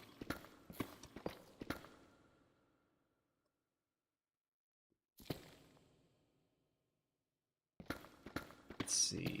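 Footsteps in Minecraft with the Presence Footsteps mod, a run of crisp clicking steps, then a pause, a short burst, and another quick cluster near the end, fairly faint and heard alone.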